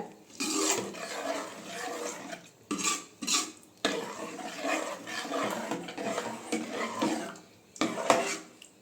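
A spoon scrapes and clanks around a pot in bursts, stirring a thick mung dal payasam mixture on an unlit stove, with short pauses between strokes.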